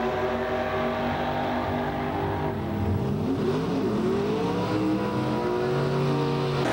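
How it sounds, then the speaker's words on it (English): A big block Chevrolet-powered Ford Altered Roadster roars loudly down a drag strip at a super gas race, its engine sustained and then rising in pitch as it accelerates away. "Super gas action continues with Ken Thompson in his beautiful big block Chevrolet-powered Ford Altered Roadster"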